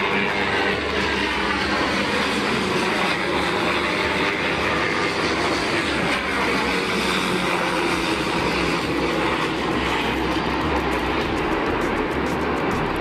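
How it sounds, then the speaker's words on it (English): A steady, loud roar of two Black Hawk helicopters flying low over downtown Chicago persists without a break, heavy and broadband engine and rotor noise, with no voices heard. "That is 2 helicopters flying above, or flying through downtown Chicago."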